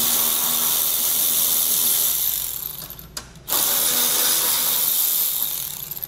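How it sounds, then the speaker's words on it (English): Close ratcheting whir of a 7mm socket wrench removing a bracket from the front of a 2020 Buick Envision, running steadily with a brief pause midway. "We'll remove this bracket first with our 7mm socket"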